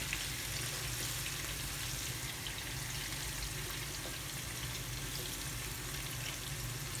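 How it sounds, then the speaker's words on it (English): Sliced onion and green chilies fry in a pan over a low flame, a steady, close sizzle with faint stirring and spattering, and no voices. "onion to be fry very well until it's light brown or golden"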